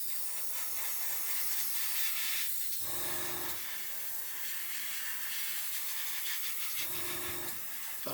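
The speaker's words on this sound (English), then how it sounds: "There we go, it's spraying better now, look." A steady airy hiss of an airbrush spraying for model making runs throughout, with two brief bursts of a lower mechanical hum; no talking.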